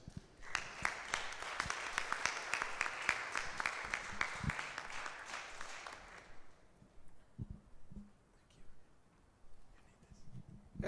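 An audience applauds after a public lecture, a dense burst of clapping for about six seconds before it dies away into quiet room noise and scattered thumps.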